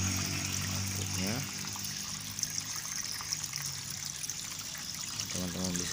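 Water trickles steadily from the outlet of a hydroponic NFT lettuce system, a constant close gurgling stream with a voice speaking briefly over it.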